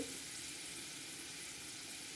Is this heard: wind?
no